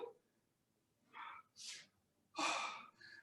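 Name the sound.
heavy breathing after kettlebell exercise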